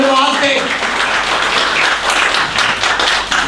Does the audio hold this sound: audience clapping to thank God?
yes